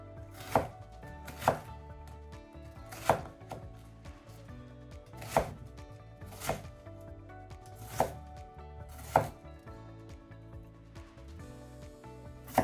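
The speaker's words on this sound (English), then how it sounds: "with the Amberg full flat grind, cutting the apple is way better" A Morakniv Amberg full flat grind knife slices an apple in a series of crisp cuts, each a sharp snap against the board, spaced a second or two apart and heard up close with no talking.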